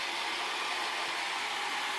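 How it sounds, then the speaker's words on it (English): A Roomba robot vacuum working in a workshop gives a faint, steady whirring hiss that holds evenly for a couple of seconds, with no talking. "I just start up Roomba"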